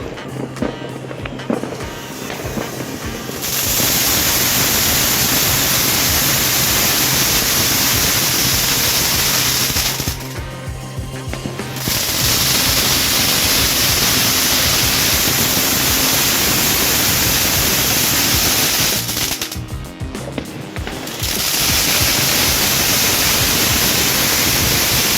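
A Golden Lion firework fountain roars with a steady, loud hissing spray as it throws silver showers and a crown, broken by two short lulls before the rush resumes.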